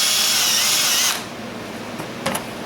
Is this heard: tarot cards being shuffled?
no